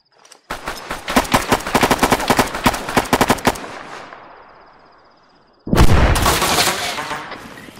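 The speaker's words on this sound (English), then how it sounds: "Throwing flashbang now." In a close-quarters combat video game, rapid automatic gunfire rattles loudly and then fades before a sudden heavy blast, consistent with a flashbang going off, bursts in and rings on.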